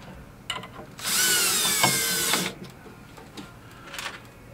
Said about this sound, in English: Just grab the drill, a couple of screws.